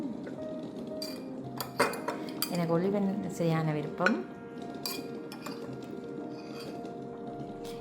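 Light clinks and taps of utensils against dishes while serving olives, a few close scrapes and knocks, with a person talking briefly over them.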